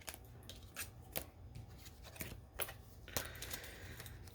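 Tarot cards riffle and snap as they are handled and shuffled, with a series of crisp clicks and flicks spaced irregularly, close and fairly quiet, with no talk.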